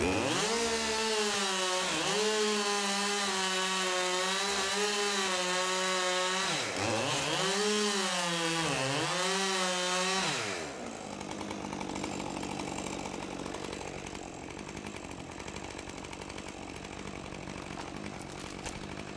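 A chainsaw cuts into a storm-damaged tree, its engine revving high and dipping in pitch as it bites, then giving way to a rougher, noisier grinding tone; close, loud and with no voices.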